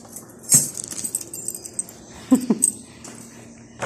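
Metal keys jangle in short bursts as someone sorts through a bunch to find the right one, with a few brief clinks standing out near the middle over a quiet room.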